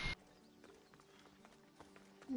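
Galloping horse hooves in Assassin's Creed Odyssey, a steady soft clip-clop rhythm at moderate distance, with faint game ambience and brief louder bursts at the start and end.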